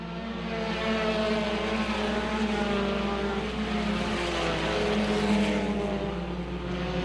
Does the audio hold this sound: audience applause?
no